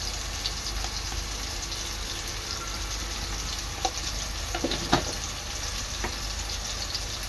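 Agri Koli masala with turmeric fries in a pan for prawn biryani, giving a steady, close hiss of sizzling oil with a few faint stirring knocks and no voices.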